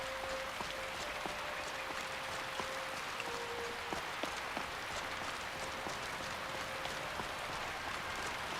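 Rain falls in the Skyrim video game world, a faint, steady patter of drops with scattered sharper ticks running continuously and evenly through the whole stretch, with no voices.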